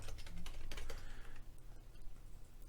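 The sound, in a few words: typing a chmod command on a computer keyboard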